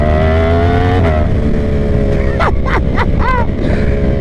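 A Yamaha R1M motorcycle with a new exhaust revs loud and close, its engine drone rising before several sharp, swooping gear-shift bursts crackle out in quick succession.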